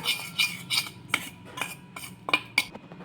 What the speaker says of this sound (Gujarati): હવે આપણે સ્વાદ પ્રમાણે મીઠું બધું આપણે મિક્સ કરી દેશું